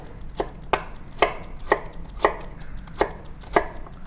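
A knife chops garlic on a cutting board in seven or eight crisp, evenly spaced strikes, close and clear over a faint hum.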